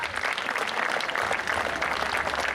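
Dense applause from a theater audience for an actress at a live stage show in Mussomeli, steady and full throughout with no voices.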